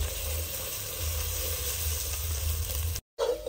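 Coconut, sesame and peanut masala paste fries in a pan with onion, garlic, ginger and asafoetida, a steady dense sizzle running close and loud, cut by a brief silent gap near the end before resuming.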